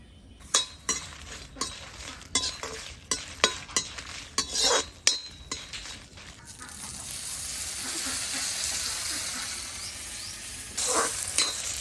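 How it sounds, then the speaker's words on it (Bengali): Garlic and green chillies hit a pan with a burst of hiss that turns into steady sizzling frying, after a run of sharp clinks and stirring knocks of a utensil against the pan, close up in a village kitchen. "আর এই যে রসুন কাঁচা মরিচ ভেজে নিব।"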